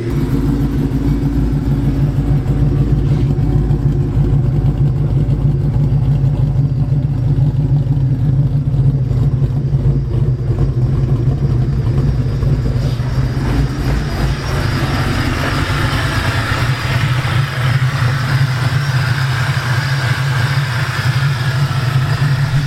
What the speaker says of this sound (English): So we're gonna reverse this car real quick